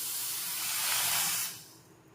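Sugar and water boil into a syrup on a gas stove, a loud close steady hiss and bubbling that swells and then drops away.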